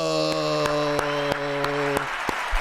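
A live-show applause sound effect plays as evenly spaced clap bursts over a sustained tonal hum, moderately loud and without speech.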